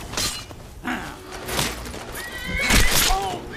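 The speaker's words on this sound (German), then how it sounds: "Pferdchen." A horse whinnies in a German-language video game, a short neigh rising over ambient game sound and a few thuds.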